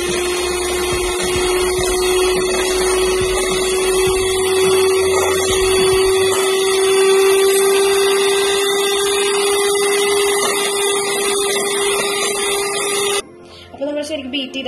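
An electric beater creams butter with powdered sugar for a red velvet cake, giving a steady loud whirring drone that holds for most of the stretch and then cuts off near the end.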